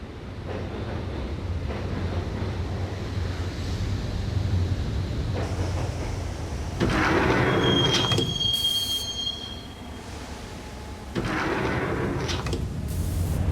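A subway train ride in the video game Max Payne, where a loud steady rumble of the carriages is cut by shrill metallic wheel squeals and shifting surges of rail noise, with no voices.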